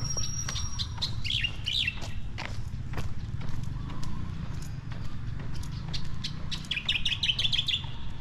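Birds chirp and tweet in short bursts over steady low background rumble during a walking tour around a roundabout at Metrogate Angeles, with occasional clopping steps and no clear talking.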